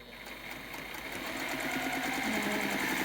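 A sewing machine runs steadily, stitching together fabric squares, its fast mechanical whir continuous and close throughout, growing slightly louder toward the end, with no talking.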